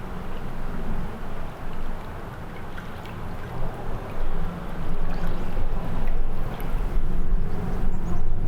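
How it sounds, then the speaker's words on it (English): A river flows steadily in a park, a dense, continuous rushing wash of water that swells slightly louder toward the end. No voices are heard. "Let's see how it's gonna pick the river sound actually."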